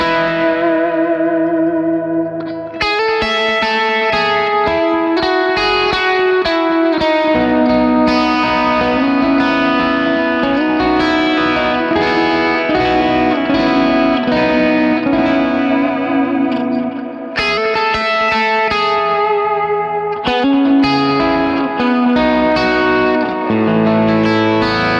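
Electric guitar amp played through a 2x10 speaker cabinet impulse response, slightly sizzly, drenched in reverb and delay; chords and melodic lines ring out continuously with echoing tails, loud and close, with a brief pause near the middle and no talking.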